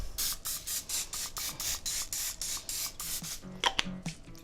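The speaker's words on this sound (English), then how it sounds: "So just using a little spray oil, and you can just lightly spray the steak." Cooking spray oil is misted over a seasoned flank steak in a series of short, hissing bursts, about a dozen quick puffs in a steady rhythm, close and fairly loud, followed by a few light handling clatters at the end.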